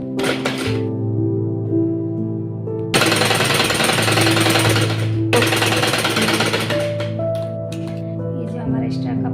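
An electric sewing machine stitching a baby dress sleeve, running in fast rapid-fire bursts of needle clatter with short pauses between, loud and close, over a steady background hum.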